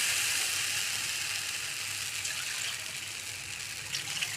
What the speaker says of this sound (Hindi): पानी भर रहा है